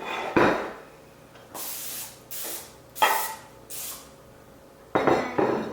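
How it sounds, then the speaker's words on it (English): Several short hissing bursts of nonstick cooking spray aimed at a pan for mac and cheese, loud and close, with a light clink of cookware at the start and end and no talking. "you want to just spray it a little bit with some nonstick"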